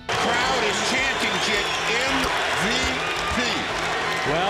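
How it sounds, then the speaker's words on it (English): Basketball arena crowd chanting during a game, a loud dense roar of many voices with rhythmic chant swells over steady crowd noise, a commentator talking over it. "Crowd is chanting"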